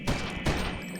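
Two sharp bursts of gunfire in the video game Eternal Darkness, each a loud crack with a short rumbling tail, spaced about half a second apart.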